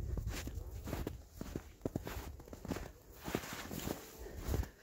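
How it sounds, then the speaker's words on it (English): Footsteps crunch through snow on a forest hike, a steady walking rhythm of crisp, close steps repeating about twice a second with no talking. "Can you hear the snow crunching?"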